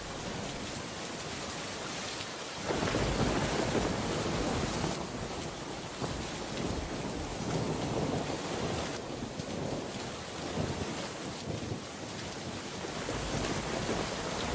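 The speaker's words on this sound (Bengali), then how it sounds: "দেখো জোরে বৃষ্টি হচ্ছে" Heavy rain pours down with thunder rumbling in a cartoon sound effect, a loud, steady wash that swells sharply after a quieter opening and keeps rolling with no voices.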